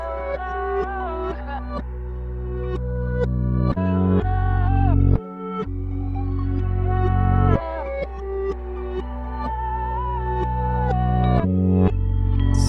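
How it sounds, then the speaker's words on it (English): A backwards-played melody swells repeatedly, each phrase rising in loudness then cutting off sharply, with a deep bass underneath and a short break midway. "I just reversed it with all of these sections from the melody, and this is how it sounds"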